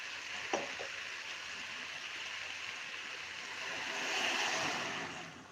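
Water is poured into a pressure cooker of spiced vegetables for pav bhaji, a soft, steady rushing wash that runs unbroken, fairly faint, with a brief knock near the start and a gentle swell toward the end.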